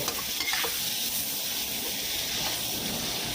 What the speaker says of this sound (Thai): ผัดคลุกเข้าให้น้ำพริกเผาละลายเข้ากันดีนะคะ